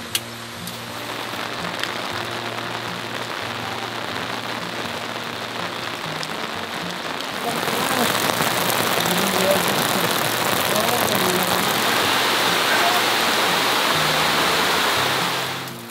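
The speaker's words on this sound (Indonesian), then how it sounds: "hujannya mulai deras banget, tapi nggak apa-apa. Bikin nuansanya jauh lebih tenang lagi dan syahdu. Kedengaran suara-suara hujan, air, dan juga suara sungainya pun kedengaran ya" Heavy rain pours steadily at a riverside campsite, a dense hiss with rushing river water beneath, growing louder about halfway through and continuing close and constant without a break.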